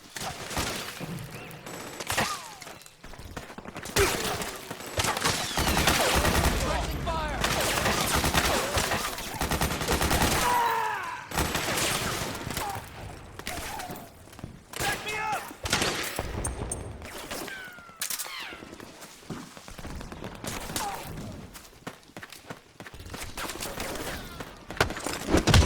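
Video game gunfire in Metal Gear Solid 4 on PS3: dense bursts of automatic fire and scattered shots crackle in clusters over nearly half a minute, loud and chaotic, with brief gaps between volleys.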